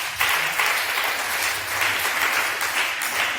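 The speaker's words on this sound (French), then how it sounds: "On acclame le Seigneur." A church congregation applauds in a dense, continuous round of clapping that holds steady for several seconds, with faint voices mixed in.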